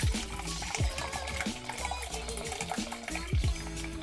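R5 monobath film developer is poured from a developing tank into a small container, a continuous close trickle and splash of liquid with faint clinks, steady and without talk.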